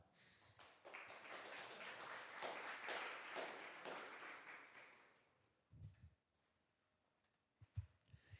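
Audience at the Akademy 2025 conference claps in a dense, steady round of applause for about five seconds before it thins out. A few soft, low thumps follow in the quiet.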